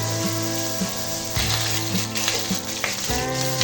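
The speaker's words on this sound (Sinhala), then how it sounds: "දැන් තෙල් රත් වෙලා තියෙන්නේ. දැන් රම්ප කරපිංච ටික දාගන්න. ඇඟට තෙල් විසිනවා පරිස්සමෙන්." Curry leaves and pandan (rampe) dropped into hot coconut oil for a Sri Lankan egg curry, giving a loud, steady, close crackling sizzle with spitting pops throughout and no talk.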